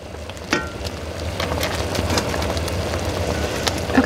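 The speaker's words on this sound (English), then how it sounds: "we are at a full boil that cannot be stirred down" Cherry and chocolate preserves churn at a hard rolling boil in a pot, giving a steady bubbling, popping rumble that stays fairly loud and even throughout, with no talking.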